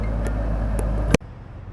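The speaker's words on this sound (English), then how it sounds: "I think I hear a concrete truck." A concrete truck rumbles past with a steady low engine drone and a few faint knocks, then cuts off abruptly, leaving quieter background noise.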